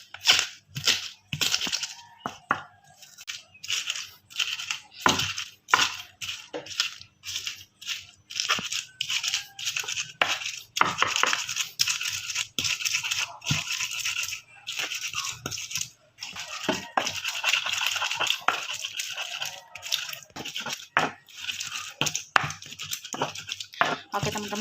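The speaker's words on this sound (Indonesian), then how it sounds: "kita haluskan bumbu-bumbunya terlebih dahulu ya teman-teman. Kita masukkan semuanya ya. Lalu kita ulek ya teman-teman ya" Spice paste for tom yum broth being ground with a stone mortar and pestle, a long run of rough, rhythmic crushing and scraping strokes, close and loud, with brief pauses between bursts.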